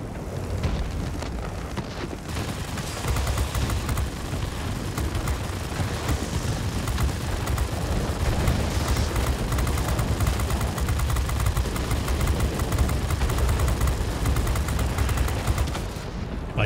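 Aircraft cannons fire in rapid continuous bursts during a World of Warplanes dogfight, a dense, loud rattling roar over a steady engine drone that runs almost unbroken throughout.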